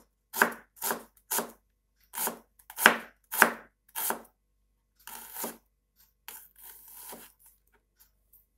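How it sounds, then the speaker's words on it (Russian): A knife slices an onion into thin half-rings on a cutting board, giving a series of crisp, close chopping strokes in uneven bursts with short pauses between, and no talking. "Лук режем тоненькими-тоненькими полукольцами."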